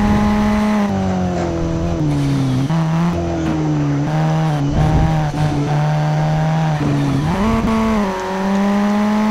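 Race car engine in the video game Need for Speed Shift 2 Unleashed: a loud, continuous high-revving engine drone rises and falls through gear changes, with tire squeal, and no talking.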